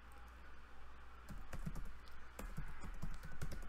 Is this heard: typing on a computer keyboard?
yes